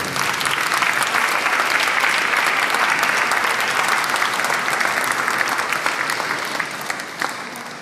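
A concert audience gives sustained, full applause after a performance of Peter and the Wolf. The thick wash of many hands stays even for several seconds, then eases slightly toward the close.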